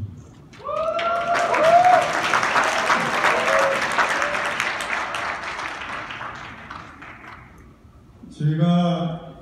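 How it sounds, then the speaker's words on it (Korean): An indoor lecture audience breaks into sustained applause that swells and then slowly fades. A voice speaks briefly at the start and again once the clapping dies away. "제가 얘기할 때는 마음껏 환호를 지르셔도 좋습니다."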